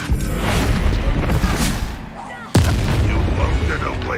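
A Confringo fire spell explodes in the game Hogwarts Legacy, giving a loud, close boom that cuts sharply through a dense rumble of battle noise. A voice calls out near the blast.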